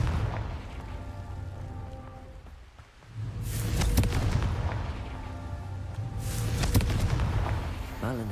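A Confringo blasting spell detonates in Hogwarts Legacy, giving two loud, broad bursts about three seconds apart over a steady rumbling game background, with a voice sounding near the start.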